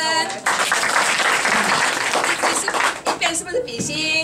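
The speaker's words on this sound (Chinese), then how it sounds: "好，我们要掌声。" Audience applause at a magic show, dense clapping filling most of the stretch before thinning out, with voices mixed in toward the end.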